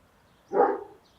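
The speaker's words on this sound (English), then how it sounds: "He's barking at a dog that's walking by." A dog gives a single short bark at another dog walking by, somewhat distant and fairly quiet against a still background.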